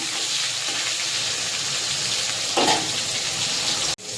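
Steady sizzling of catla fish pieces frying in oil fills the clip, a close bright hiss with a brief swell midway and a sharp knock near the end.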